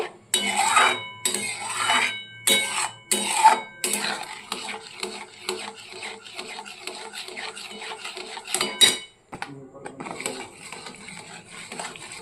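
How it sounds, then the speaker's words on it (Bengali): Palm fruit kheer stirred in a pot as it thickens, with a utensil scraping and clinking against the pot in irregular bursts throughout, close and fairly loud, with no talk. "এটা আরও নেড়ে নেড়ে খানিকটা শুকিয়ে নেব"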